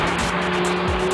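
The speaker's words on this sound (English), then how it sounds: "It makes a great noise when you're in sport mode." An Audi RS Q3 in sport mode revs hard, a loud close engine note with a rising and falling pitch heard from inside the cabin, brief and continuous with no talking.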